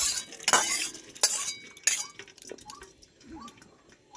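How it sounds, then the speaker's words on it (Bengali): Boiled unripe jackfruit poured from a pot onto a plate, a few loud metallic clinks and scrapes at the start, then lighter intermittent clinks and small drips. "এটা আমি থালায় ঢেলে দিলাম।"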